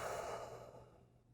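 A slow, soft exhale during a qigong chair yoga breathing exercise, close and quiet, fading out over about a second with no speech.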